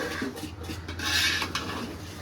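A utensil scrapes and stirs through rice in a pot of chicken biryani, with soft metallic clinks and rubbing over a low steady hum.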